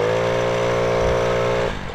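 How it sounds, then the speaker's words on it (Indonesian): A Yamaha Nouvo motorcycle engine revving close by, a loud sustained buzzing drone that holds steady and then drops away near the end. "ini mesinnya dahsyat banget sih. Coba gue betot ya"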